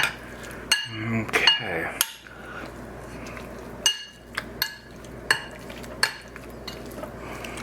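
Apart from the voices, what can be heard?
mixing beef with starch in a bowl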